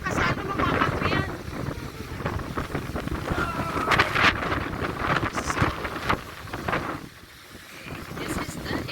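Strong, gusty wind at Bluffers Park beach roars steadily against the microphone, and voices talk over it throughout.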